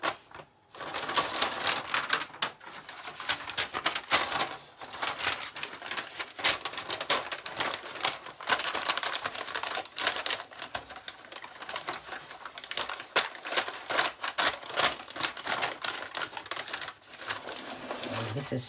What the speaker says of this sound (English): This year I'm using Bako foil. It's parchment and foil, which is really good and strong, but you can also shape it quite easily